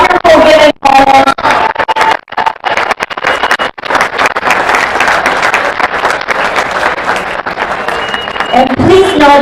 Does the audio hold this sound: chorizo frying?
no